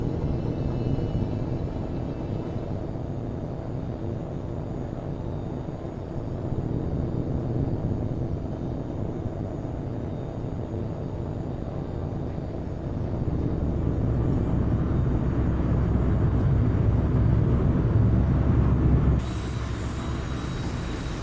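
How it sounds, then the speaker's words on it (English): A fighter jet rolls for takeoff in the video game H.A.W.X. 2, a continuous loud roar of jet engine and rumble building toward the end before cutting to a brighter tone. "Clear for takeoff."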